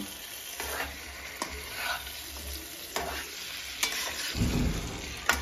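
Fried young jackfruit and potato are stirred with ground spices in a pan, giving a close, continuous sizzle of frying broken by repeated scraping strokes and a few clinks of the spoon, with no voices.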